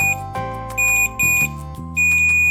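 A multimeter's continuity buzzer, fitted with an added LED indicator, beeps loudly in a series of sharp, uneven bursts and pauses while its probes test a connection.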